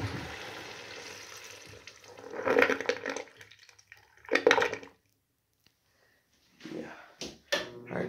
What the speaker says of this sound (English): time to do the last flush